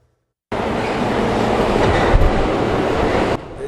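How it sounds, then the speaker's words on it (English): New York City L subway train passing, a loud sudden rush of rumbling wheels and rail noise that starts abruptly, holds steady with a brief clunk, then drops off near the end. "There goes the L train."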